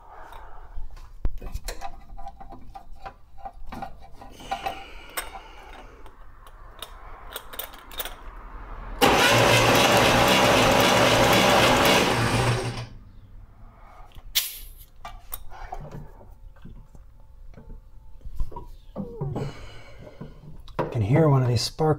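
A 1964 Corvair Monza engine cranks over on its starter during a compression test, a loud, steady mechanical churn lasting about four seconds between stretches of nearby talk and shop noise.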